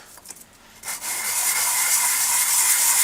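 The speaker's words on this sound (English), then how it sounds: "I'm on the surface plate here with a sheet of, I think it's 180 grit. We're going to make sure the bottom is completely flat" An aluminium motorcycle part is rubbed flat by hand on a sheet of 180 grit abrasive laid on a surface plate, a steady close scraping hiss that builds after a quieter start and continues without pause.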